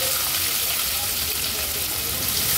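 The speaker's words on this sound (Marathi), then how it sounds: "अर्धा चमचा राई, अर्धा चमचा जिरं, तेजपत्त्याची 2 पानं, कांदा घालूया" Onion sizzling in hot oil with mustard seeds, cumin and two bay leaves for a Marathi veg thali, a steady, dense frying hiss throughout at moderate loudness.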